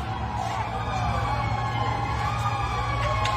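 A fire truck siren wails at a market fire in Dapitan, Quezon City, its rising and falling tone loud and steady over a rumbling engine and crowd noise.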